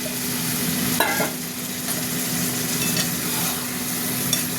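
Chicken curry being sautéed (kosha) in a pan: close, continuous sizzling over a steady low hum, with occasional scrapes and clinks of the stirring spoon and no talking.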